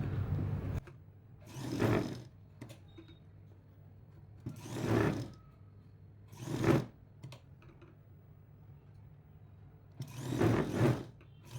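A sewing machine stitches a jacket lining in short bursts, four separate runs of rapid mechanical whirring with quiet pauses between them, fairly close and alone.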